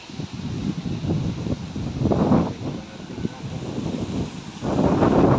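Strong wind buffets the microphone in surging gusts, low and rumbling, rising and falling over a few seconds, beside a river in Taiwan.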